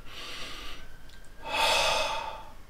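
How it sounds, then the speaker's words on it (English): Slow, deep breaths for fever relief: a soft airy inhale through the nose, a pause, then a longer, louder rushing exhale through the mouth, close and alone. "breathe in through your nose and breathe out through your mouth."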